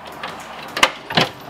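A raising, locking door on a 2020 Boston Whaler 380 Realm boat being worked, two distinct clunks and latching sounds about a third of a second apart over quiet background hiss.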